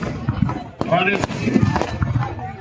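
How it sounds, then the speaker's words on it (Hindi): Fireworks burst after the Dussehra Ravan Dahan burning in Bikaner, sharp cracks and pops scattered among crowd noise and a talking announcer. "दशहरे के उत्सव के बाद में आतिशबाजी हुई है"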